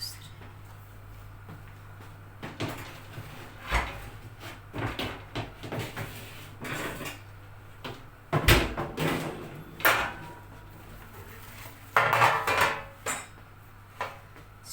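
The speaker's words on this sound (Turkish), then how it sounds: "Şimdi bunu dilimlediğim böreği fırına veriyorum arkadaşlar." A tray of sliced börek goes into an oven, heard as a series of close metallic clunks, scrapes and bumps in irregular bursts, with a steady low hum underneath and quieter gaps between the knocks.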